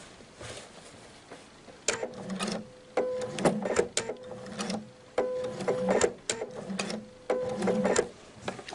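A sewing machine stitches a tunic shirt down to the bottom of a placket slit in short stop-start runs, each a rattling mechanical burst separated by brief pauses and clicks.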